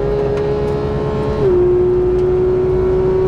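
A modified Porsche GT3 flat-six screams at full throttle on a track, a loud sustained high-pitched engine note that dips slightly and holds steady from inside the car.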